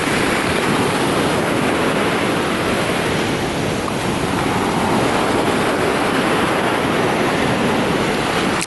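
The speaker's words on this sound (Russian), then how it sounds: "волночки, они прям не такие уж, что прям вообще сильные" Steady rushing sea surf washes in continuously at Alanya, broad and close, with wind blowing across the microphone and no voices.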